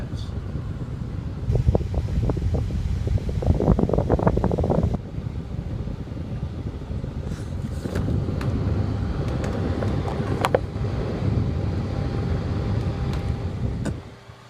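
A Durcraft desk fan running, a steady broadband whoosh of moving air with low hum, fairly loud and close, holding until it drops away at the end.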